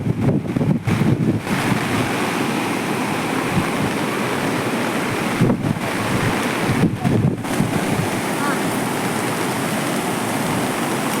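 Floodwater from an overflowing tank rushes around a passenger bus stranded in a stream between Venkatapuram and Toparpalli, making a loud, continuous roar of churning water mixed with heavy wind buffeting, with no voices.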